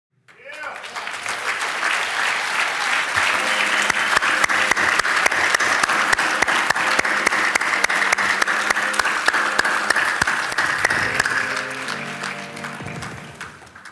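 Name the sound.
audience applause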